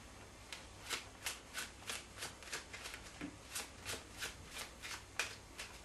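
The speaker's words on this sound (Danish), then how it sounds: "Og ellers blander vi kortene stille og roligt." A deck of playing cards is shuffled by hand in a quiet room, with a steady series of crisp riffling bursts close up, each one short and evenly spaced.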